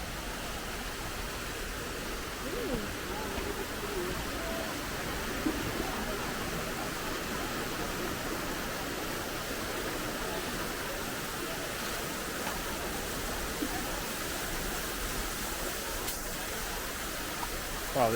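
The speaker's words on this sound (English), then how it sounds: "So this is just a small one on your way up to the main waterfall." A small waterfall on the trail up to a larger fall in Bali gives off a constant, full rush of falling water. The broad roar holds steady and fairly close throughout, with no clear voices over it.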